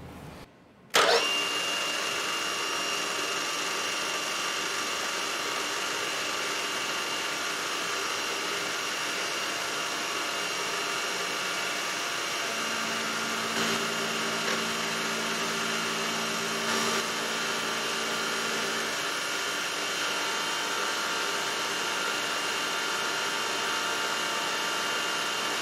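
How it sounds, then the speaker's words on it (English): Milling machine at 3000 RPM taking a test cut in brass with a reground chamfer endmill, a steady loud whine with high tonal ringing that holds nearly unchanged for the whole stretch, with no talking. "Let's go to the mill and do a test cut with this thing."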